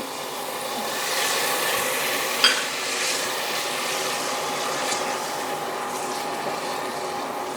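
Chicken cooks in a pan of garlicky white sauce for pasta, giving a steady, soft sizzle and bubbling with one brief clink of a utensil partway through.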